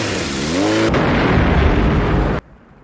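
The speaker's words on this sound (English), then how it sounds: "That was a great explosion." A loud explosion from the 1987 film RoboCop bursts in after a brief tonal sound, a sustained roaring blast that ends abruptly.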